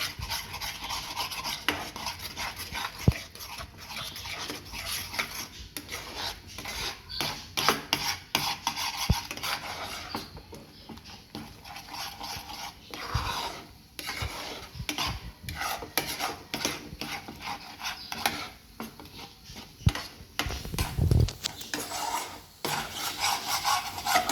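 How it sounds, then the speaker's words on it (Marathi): Egg bhurji stirred with butter in a pan over a high flame, a steady scraping and rubbing of the spatula against the pan throughout, with occasional louder clinks, close up. "भुर्जी नेहमी हलवतच राहायची आपण जोपर्यंत भुर्जी सुकी होत नाही"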